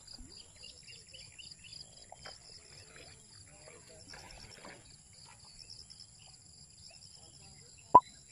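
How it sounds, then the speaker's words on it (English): Faint, scattered morning bird chirps over a steady hum of insects in a quiet rural setting by a fishpond, with one sharp click near the end. "Chirping birds early in the morning."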